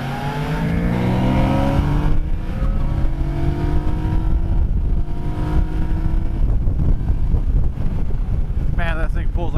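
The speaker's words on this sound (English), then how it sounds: "Man, that thing pulls like a freight train. Like, Yamaha's three-cylinder engine is so amazing." Yamaha Niken three-cylinder motorcycle engine pulling hard under acceleration, a loud close rising drone with wind noise over the microphone.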